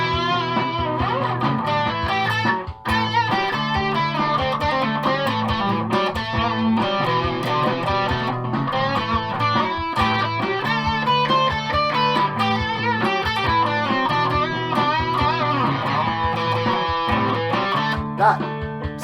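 Gibson SG Special electric guitar through a P90 pickup with distortion, playing continuous gritty chords and riffs over a backing track with drums, loud and steady throughout.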